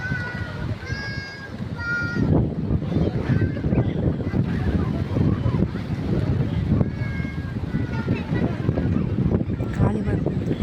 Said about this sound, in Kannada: ಗಾಳಿ ಬರ್ತದೆ ಜೋರು